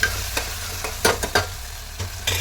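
Brinjal pieces frying in a pan, a steady oily sizzle broken by several sharp bursts of stirring and scraping, close and fairly loud, with no voices.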